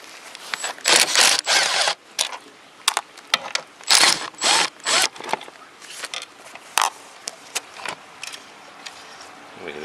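Rapid ratchet clicking in repeated bursts, close and loud, as seat bolts on a 2002 Mazda Miata MX-5 SE seat are undone, with short pauses between the strokes.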